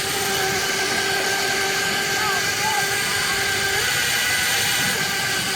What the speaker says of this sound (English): As you can tell, it's really loud, so as you're riding around, it does make a lot of chain noise.